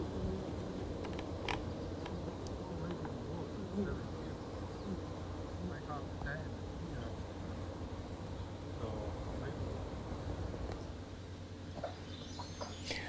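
Wild bees in a remote area of the USA, a continuous faint buzzing hum of many insects with occasional louder passes close by and a few bird chirps in the background.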